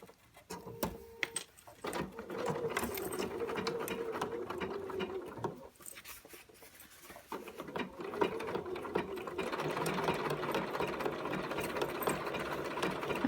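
A sewing machine top-stitches denim blue jeans at a 3.5 mm stitch length, a quiet, steady mechanical whirring and clatter that runs in sustained stretches with a brief pause midway and a few clicks at the start.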